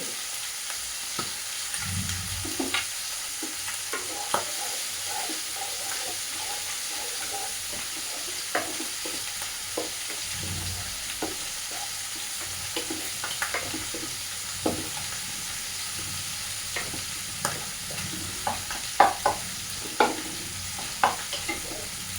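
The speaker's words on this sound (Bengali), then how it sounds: "মাছের পেটের পিসগুলো ভাজা হয়ে গেছে, এগুলো তো তখন তুলে নেব।" Pieces of fish belly fry steadily in hot oil in a pan, a continuous close sizzle with occasional louder pops and spatters scattered throughout.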